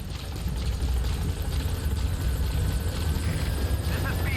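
A helicopter arrives at a landing zone in Metal Gear Solid V, its dense rotor and engine drone rumbling steadily and fairly close, with radio talk layered over the noise.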